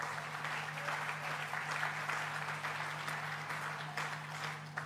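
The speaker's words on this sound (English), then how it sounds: "Let's give them a round of applause" An audience at the opening of the Tribeca Film Festival gives a round of applause, a steady, moderately distant wash of many clapping hands over a low constant hum, sustained evenly throughout.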